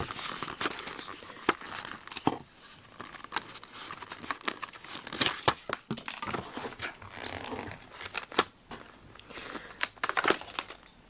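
A box of Tilda paper craft supplies is opened up close: irregular crinkling, rustling and tearing of paper and packaging, with sharp crackles scattered throughout and no speech.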